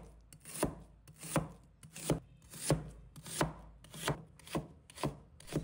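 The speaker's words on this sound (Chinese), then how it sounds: "再准备半个洋葱，先把头尾切掉不要，再把它切成丝。" A kitchen knife chops half an onion into strips on a cutting board, with about nine steady, crisp strokes at an even rhythm and no voices.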